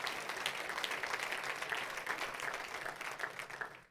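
Church congregation giving loud, sustained applause during a service, a thick, even roar of many clapping hands that holds steady, then tapers off at the very end.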